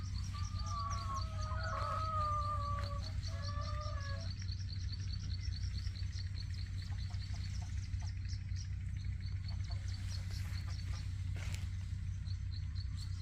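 Chickens on an organic farm cluck faintly in the distance while other birds chirp and tweet, all over a steady low rumbling background.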